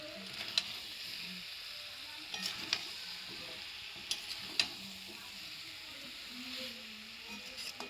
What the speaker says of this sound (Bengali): কুচানো টমেটো, দিয়ে আরও একবার ভালোভাবে ভেজে নেব।